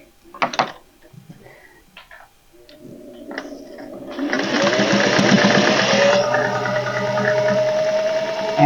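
A few clicks and handling knocks come first, then a sewing machine starts up and stitches a travel thread catcher in a loud, steady mechanical whir that runs close for several seconds.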